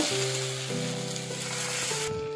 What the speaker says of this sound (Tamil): கல் சூடானதும் இந்த மாதிரி நம்ம கலந்து வச்சுருக்கிற மாவு ஊற்றிக்கலாங்க